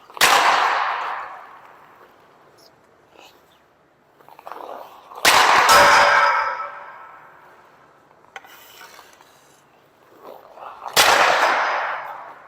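Three hockey slap shots taken with a 70 flex low-kick stick ring out several seconds apart, each a loud close crack of stick and puck that decays into a rumbling echo, with softer scraping of the blade between them.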